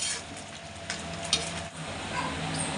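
Potato sabzi fries in an iron kadai with a continuous close sizzle and crackle, plus a few soft stirring scrapes and no talk over it.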